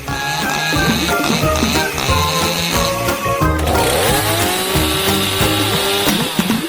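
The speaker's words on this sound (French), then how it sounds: "Maintenant, je vais hacher ce chou en petits morceaux." A loud motorized saw whines and revs up close, its pitch shifting as it chops through a cabbage, running steadily without pause.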